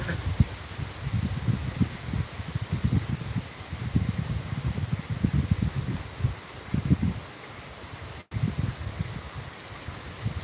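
Typhoon wind buffets a microphone during a live stream in Borongan, a loud uneven roar of rumbling gusts that rise and fall throughout.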